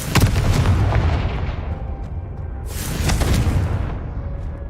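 A Confringo spell explosion in Hogwarts Legacy booms loudly at once, followed by a rolling rumble that fades, then a second swelling blast of noise a few seconds later.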